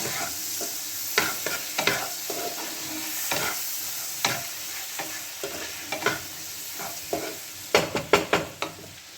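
A spoon stirs salt, turmeric and grated ginger through paneer butter masala in a pan, with irregular scraping strokes over a steady soft sizzle, close and fairly quiet, no talking.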